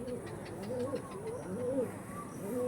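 A pair of Andhra pigeons cooing close by in repeated soft, rolling phrases, steady over a low background hum.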